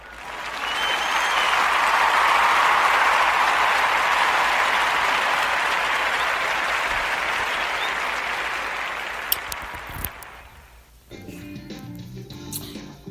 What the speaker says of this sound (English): we must give a round of applause for the